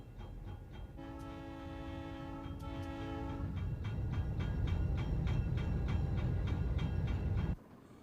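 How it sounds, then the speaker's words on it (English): Streamlined Alco diesel locomotives of the Napa Wine Train pulling out of the station: a loud horn blast over a deep engine rumble, then the rumble swells with rhythmic rail clatter before cutting off abruptly. "The powerful, streamlined Alco diesels roar to life, and the train departs the station headed north out of town."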